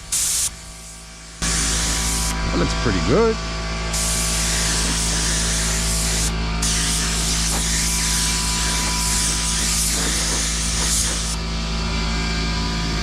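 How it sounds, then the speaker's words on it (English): Continuous hiss of a Porphis PRD 815 spray gun spraying paint onto a fender in a steady stream, preceded by a short burst and a brief spoken remark. "I just want to see how the pattern lays down when I spray it on the fender"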